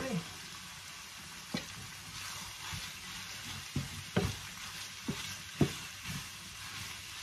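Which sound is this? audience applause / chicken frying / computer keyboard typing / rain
chicken frying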